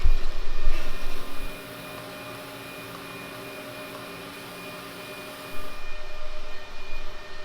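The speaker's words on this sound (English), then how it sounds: "Let's get to welding." Welding a motorcycle exhaust pipe on a Suzuki V-Strom fitted with a Delkevic exhaust produces a steady hiss and buzz, loud at first, dropping to a quieter even drone, then rising again; close by, with no talk.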